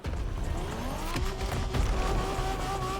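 A Gen 1 Honda NSX races in the driving game The Crew Motorfest, its engine droning loud and steady with rising gear pitch, tire noise and a few thumps throughout.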